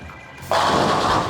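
A bowling ball released down the lane, an abrupt rumbling roar that starts after a quiet moment and rolls on loud and steady with no voices.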